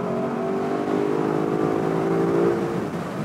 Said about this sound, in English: click up into sport plus mode, and then stab the throttle.